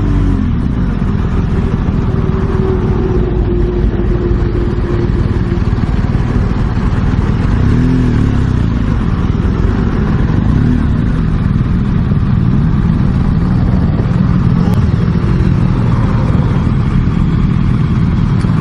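A 2016 BMW R 1200 GS Adventure motorcycle on a demo ride at Laguna Seca, Monterey, its engine droning steadily and loudly throughout, with a constant low rumble and wind noise and no clear breaks.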